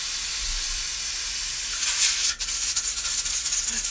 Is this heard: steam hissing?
yes